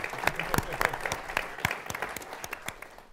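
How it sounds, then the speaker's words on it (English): An audience breaks into applause for sports writer Stewart Mandel at a college sports journalism panel, dense sustained clapping from a roomful of people heard up close. "How about a round of applause for Stewart Mandel?"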